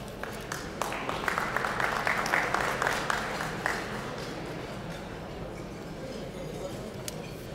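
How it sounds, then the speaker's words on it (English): Applause from a gala audience, scattered clapping that swells and then thins out into a low room murmur, with a faint clink near the end. "Another round of applause, please,"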